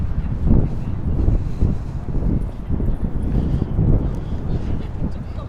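Strong gusts buffet the microphone outdoors in Manhattan near the Brooklyn Bridge, a loud rumbling wind roar that surges and eases in uneven pulses throughout.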